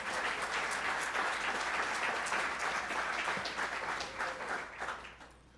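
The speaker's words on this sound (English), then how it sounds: "Please give them a round of applause." Banquet audience at a hall of fame ceremony applauding, a steady dense wash of clapping from a sizable crowd that carries on evenly for about five seconds before tapering off.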